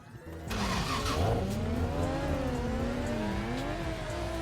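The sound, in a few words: drifting Mazda RX-7 FC and E92 car engines, video game Torque Drift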